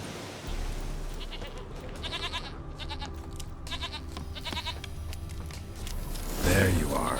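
A goat in The Witcher 3 bleats in several short, repeated calls through steady game ambience, with a louder rustle or thump near the end and no speech over it.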